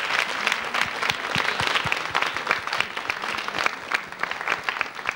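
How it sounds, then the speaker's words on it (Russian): Studio audience applause on the Russian TV quiz show Markiza, a sustained wash of many hands clapping at steady loudness, with sharper individual claps standing out. "Аплодисменты вам."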